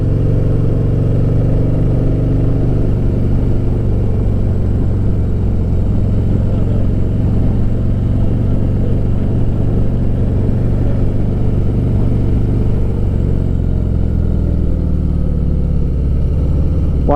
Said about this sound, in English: My motorcycle's displeased with me right now at all the inclines.